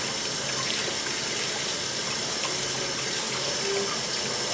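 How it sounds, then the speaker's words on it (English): Water from a kitchen tap runs steadily over arugula being rinsed, a continuous even hiss and splash at close range with no voices. "I'm going to give this a little bit of a rinse, my arugula."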